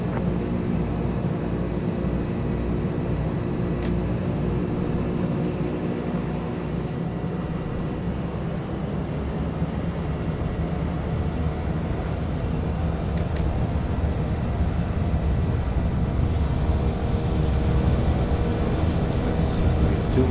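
Turboprop airliner engines in Microsoft Flight Simulator 2024 throttling up for takeoff, a steady loud droning hum with a faint tonal whine, continuous for twenty seconds without clear changes.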